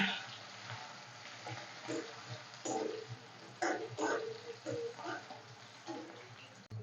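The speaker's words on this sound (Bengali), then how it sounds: "দিয়ে দেবো কুচনো পেঁয়াজ আর দুটো চেরা কাঁচা লঙ্কা" Chopped onion and slit green chillies fry quietly in a pan, a faint sizzle broken by short bursts of stirring and clatter at an uneven pace.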